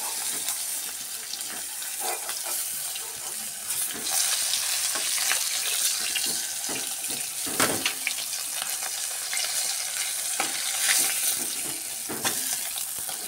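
Hilsa fish pieces fry lightly in oil with a soft, continuous sizzle and occasional stirring clatter, fairly quiet and without speech.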